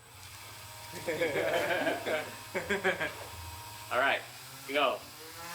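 An old Dremel rotary tool motor drives a propeller on a makeshift drone, giving a buzzing whir that rises and drops in short bursts. Someone speaks briefly over it.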